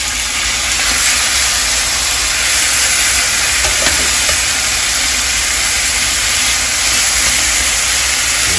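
Deer backstrap sears in a hot pan, giving a loud, continuous broadband sizzle that stays steady and even for the whole stretch, with no talk over it.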